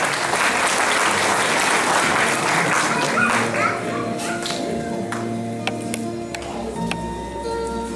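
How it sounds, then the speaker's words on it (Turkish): An audience applauds at a Turkish poetry event after the last poem is announced, a dense burst of clapping that fades after a few seconds into scattered claps and murmuring voices. "Son şiirimiz yine alkışlarınızı istiyorum."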